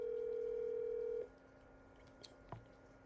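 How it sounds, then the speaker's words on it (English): Phone call ringback tone, a steady held tone that cuts off after about a second, followed by a quiet line with a couple of small clicks. "It's just ringing"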